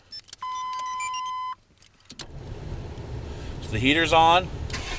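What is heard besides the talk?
Chevy truck engine starting via remote start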